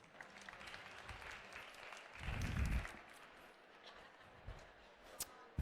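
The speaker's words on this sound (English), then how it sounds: "if everyone could please give him a round of applause" Conference attendees give moderate, fairly quiet applause for the next speaker at a Power Stage session, with a brief low thump partway through and the clapping thinning out toward the end.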